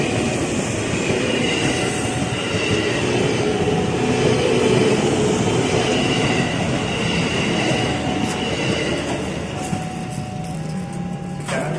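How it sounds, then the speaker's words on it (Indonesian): A passenger train rumbles steadily along the tracks arriving at Bekasi station, a continuous heavy drone with faint squeals and clanks rising toward the end. "jalur 4 dari arah timur dipersiapkan masuk kereta api Mataram dari stasiun Solo"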